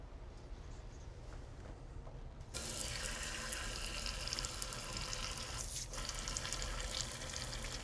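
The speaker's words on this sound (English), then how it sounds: "we want to go ahead and wash our hands" Running tap water pours steadily into a sink while hands are washed in a home kitchen during preparation of a stuffed pork loin roast, starting abruptly after a quieter moment and staying loud and continuous.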